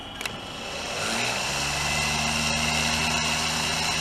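A simple homemade brushless DC motor spins steadily with a sustained whirring hum that rises and settles after the first second and holds, close and fairly loud, with no talking.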